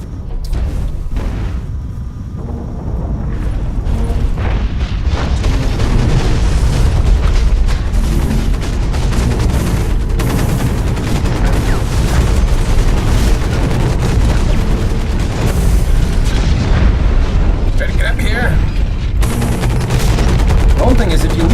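Hawken mech combat plays loud and continuous, dense machine gun fire layered with heavy booms and explosions throughout, with a voice partly audible beneath the din.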